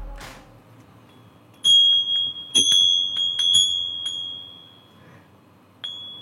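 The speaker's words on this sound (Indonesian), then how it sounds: "Siapa yang masih ingat adegan bel atau lonceng ini di dalam film horor Pengabdi Setan?" A small bell from a scene in the Indonesian horror film Pengabdi Setan rings in a few sharp, clear strikes with a lingering ringing tone, followed by a later single ding against a quiet background.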